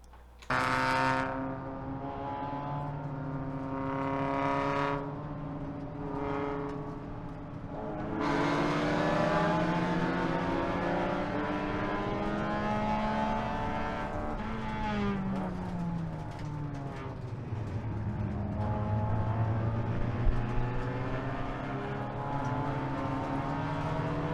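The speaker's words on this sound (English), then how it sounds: "let's jump straight into the footage and watch my buddy Rob learn what it's like to go wheel-to-wheel racing" Race cars in wheel-to-wheel racing on a track produce loud engine notes that rise and fall through repeated gear changes and revs, with overlapping cars and a sustained roar throughout.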